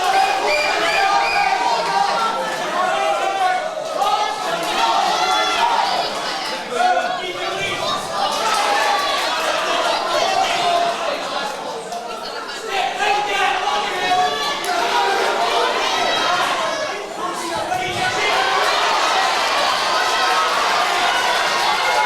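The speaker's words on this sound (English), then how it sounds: "Crowd gone absolutely mental for this one" Spectators at an amateur boxing club home show roar and shout throughout a bout, a continuous loud wall of cheering and excited yelling from a packed hall, swelling in waves with chatter mixed in.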